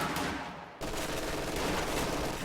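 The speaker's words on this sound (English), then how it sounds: "Under small arms fire." Small arms gunfire in a real-time strategy video game, with a steady crackle of rapid shots continuing throughout at moderate level, briefly muffled at the start.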